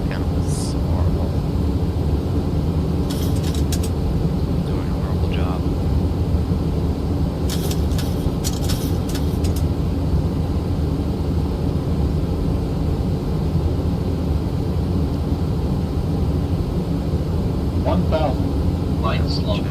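A Boeing 737NG in the flight simulator X-Plane 12 drones steadily with constant engine and cockpit hum throughout, broken by a few faint short clicks and chimes.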